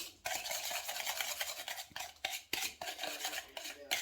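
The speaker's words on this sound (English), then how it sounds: "that is whisked together" A whisk beats ingredients for lilac ice cream in a bowl, giving quick rhythmic scraping strokes with brief pauses, close and fairly soft, with no voices.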